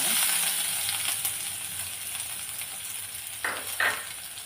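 Shallots, curry leaves and cumin sizzle steadily in hot oil for a brinjal curd curry. The crackle is continuous and close, and a couple of brief utensil clinks come near the end.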